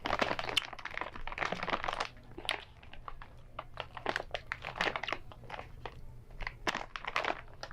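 Crunchy snack food from a balikbayan box being chewed up close, with irregular crisp crunches and crackles over several seconds.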